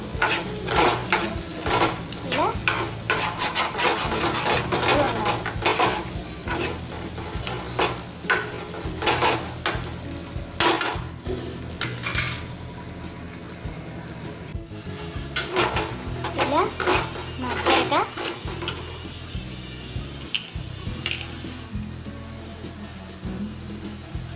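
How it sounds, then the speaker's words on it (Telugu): Potato pieces being stirred in a frying pan for aloo curry, with repeated scraping strokes and a steady sizzle running underneath; speech-like sounds come and go in the background. "ఈ ముక్కల్ని ఇలా కలుపుకుంటూ ఉండాలి లేకపోతే ఈ ముక్కలు అవి ఉండిపోతాయి"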